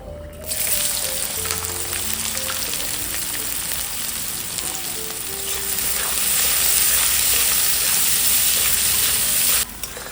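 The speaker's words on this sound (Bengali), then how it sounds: "পেঁয়াজটা ভাজা হয়ে গেছে" Sliced onions fry in hot mustard oil in a wok, giving a loud, steady sizzle that runs unbroken for about ten seconds with a faint scrape of stirring now and then.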